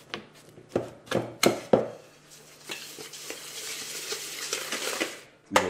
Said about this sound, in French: Je vais mettre le beurre pommade, elle est pas mal, avec le sucre. On vient fouetter l'ensemble.